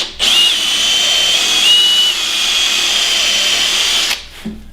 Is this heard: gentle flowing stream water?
no